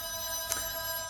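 A telephone rings indoors in a home workshop, a single short ring burst over a steady electrical hum, with nobody speaking.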